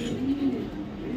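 Young pigeons, a pair of down-shaped racing pigeon chicks, give a low, steady cooing that runs continuously through the moment, close by and moderately quiet.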